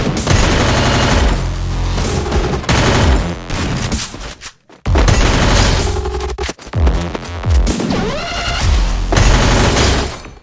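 Dense, loud gunfire from Free Fire mobile battle-royale gameplay, with sustained automatic bursts and booming shots packed together, a brief lull near the middle, then more rapid fire.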